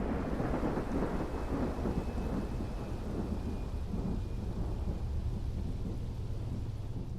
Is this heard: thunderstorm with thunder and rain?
yes